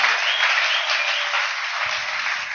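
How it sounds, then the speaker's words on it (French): A church congregation gives sustained, even applause, a dense wash of many hands clapping at once, fairly loud and steady, with a faint voice creeping in near the end. "Applaudissons fort."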